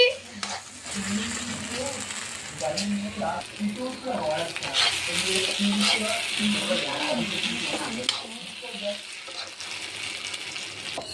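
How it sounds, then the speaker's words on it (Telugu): Paneer being mixed into a cooked masala in a pan, soft sizzling with scraping and stirring sounds throughout, partly under a person talking nearby. "ఇప్పుడైతే మనం పన్నీర్ వేసి మిక్సింగ్ చేసేస్తున్నాం"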